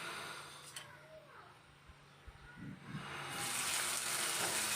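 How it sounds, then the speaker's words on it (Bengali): Onion, garlic and green chilies fry in oil in a pan, a soft sizzle with a few stirring knocks that swells into a loud, steady hiss near the end. "পেঁয়াজ আর বেশি করে রসুন দিয়েছি আর কাঁচামরিচ দিয়েছি।"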